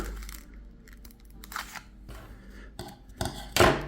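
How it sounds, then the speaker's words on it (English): Scissors snip and crinkle through a package holding ancient Roman coins, a few crisp cuts and rustles up close in a quiet room, ending with a louder crackling tear. "Let's get our trusty scissors and open this up."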